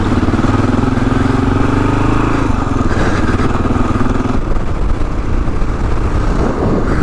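A Kawasaki KLR motorcycle rides off-road across desert terrain, its engine droning loud and steady throughout, with the pitch dropping after a shift partway through, plus clatter from the rough ground.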